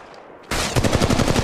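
Rapid automatic gunfire from Apex Legends Mobile kicks in abruptly and loud after a brief quiet lead-in, with a steady stream of close, sharp shots.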